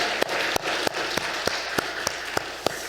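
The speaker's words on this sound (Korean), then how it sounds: "박수로 감사드립니다" A church congregation claps during a Sunday service, a steady rhythm of single sharp claps about three per second, heard at a moderate distance in a reverberant room.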